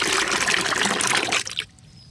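Liquid fertilizer solution of coconut and buttermilk being stirred, a steady close trickling and sloshing that stops abruptly near the end, leaving near silence.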